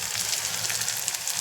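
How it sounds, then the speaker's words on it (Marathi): Quartered peeled potato pieces fry in hot oil over low gas, a steady, close hissing sizzle with no breaks. "आणि हे टाकायचं असं तेलामध्ये"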